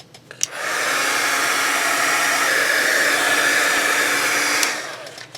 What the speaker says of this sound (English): All you have to do is take your heat gun